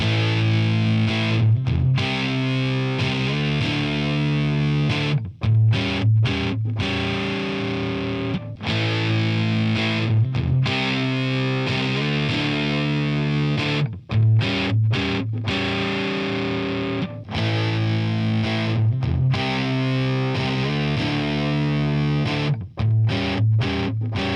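Heavily distorted electric guitar chords ring out through a high-gain Plexi-style amp built from a Mojotone British 45 kit with a booster pedal, strummed in bursts with short choppy pauses between them.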